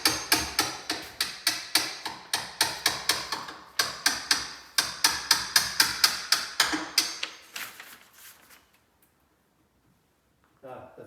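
A hammer drives a chipped chisel into a door edge to cut an entrance lock recess, with a long run of rapid, evenly spaced, sharp knocks close by, tapering off into quiet before a brief final sound.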